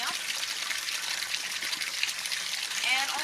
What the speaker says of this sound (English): just kind of keep an eye on the water as it's coming up